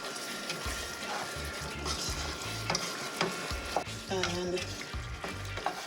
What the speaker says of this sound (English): I'm gonna stir it around.